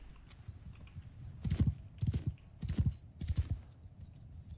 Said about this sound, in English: Hear the sounds of the horse hooves thundering.